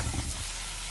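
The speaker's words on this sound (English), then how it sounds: "Sizzle, sizzle." Beyond Burger plant-based patties sizzle in a hot frying pan, a steady broadband hiss with crackling spatter, fairly loud and continuous with no voices.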